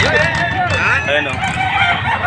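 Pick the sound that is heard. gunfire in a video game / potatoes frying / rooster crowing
rooster crowing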